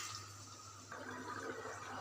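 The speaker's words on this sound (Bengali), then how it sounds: "আমি এখন একটু পরিমাণ মতো পানি দিয়ে দেব" Water is poured into a pan of chicken curry with potatoes and tomatoes, giving a short, soft rushing splash up close, with no voices.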